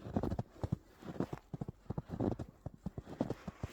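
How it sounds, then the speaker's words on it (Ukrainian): Soft, quick crunching steps on wet, fresh snow in Munich on a winter evening, close and fairly quiet, in an uneven walking rhythm. "Під ніжками репить."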